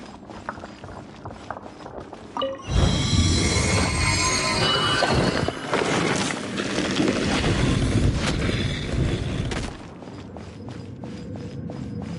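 A rushing wind current in Genshin Impact, played on PS5, surges in abruptly as a loud, broad whoosh, holds steady for several seconds, then cuts off, with quieter ambient game sounds on either side.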